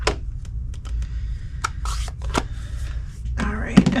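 Scissors snip around stamped paper in a series of short, irregular, close cuts and paper rustles over a low background hum.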